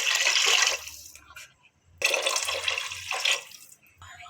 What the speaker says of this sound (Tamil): நான் 4 டம்ளர் தண்ணி ஊற்றிக்கிறேன்.